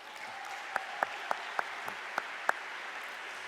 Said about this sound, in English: Another round of applause for our top 10 graduates of the class of 2020.